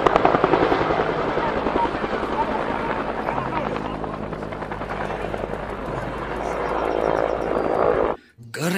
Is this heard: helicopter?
yes